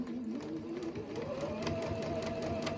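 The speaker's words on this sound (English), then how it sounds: "So over to our machine, and we're going to stitch 1/4 of an inch either side of the drawn line." A sewing machine hums steadily as it stitches quilt pieces, running close and continuously with a rising motor whine, with no talk over it.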